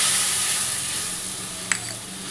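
Ginger juice poured into a pan of frying fish curry gives a steady, loud sizzle and hiss, easing slightly over time, with one brief sharp clink near the end.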